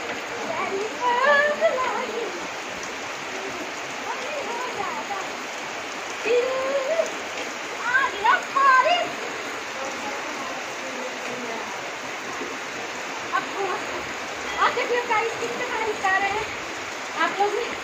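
Steady rain patters throughout, with birds chirping now and then and faint voices in the background.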